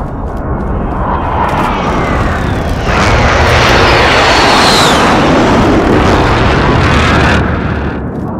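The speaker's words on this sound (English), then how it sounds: "friendly precision airstrike inbound." A friendly precision airstrike in the video game Call of Duty: Modern Warfare: a loud, sustained jet roar and rumbling blast that swells midway and holds steady for several seconds, with no talking.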